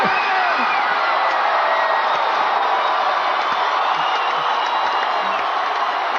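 A huge outdoor crowd roars continuously at the Chicago Bulls' 1996 championship celebration in Grant Park, a loud, dense, unbroken wall of cheering and whooping.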